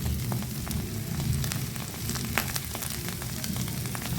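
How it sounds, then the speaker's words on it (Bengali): Onion, ginger and garlic paste with chili powder, salt and spices sizzling steadily in a pan, a fine continuous crackle with scattered pops, moderately quiet and close, no voices. "দিয়ে সব ভালো করে ভাজবো"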